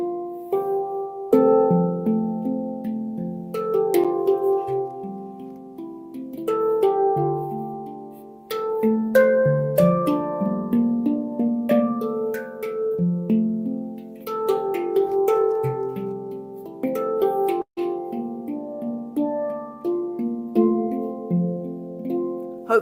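A handpan plays a melody that rings out over softer accompaniment notes weaving in and out, struck steadily and resonantly with varied dynamics, solo with no talking.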